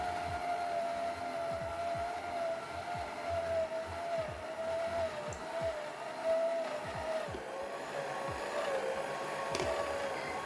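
A stand mixer hums steadily while kneading sweet bread dough, its motor tone holding level with rhythmic thumps as the dough turns, close and alone.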